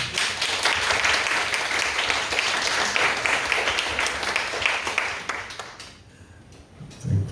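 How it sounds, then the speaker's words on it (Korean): A church congregation applauds loudly and steadily for several seconds during a Friday night worship service, then the clapping fades out into near quiet. "박수로 한번 크게 환영합니다"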